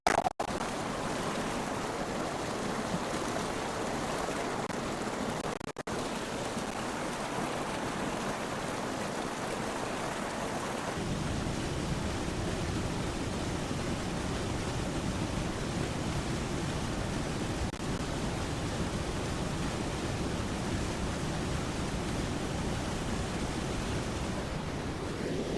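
Water of Golpalli waterfall rushes in a steady, loud, continuous roar, with the texture shifting slightly partway through and no voices.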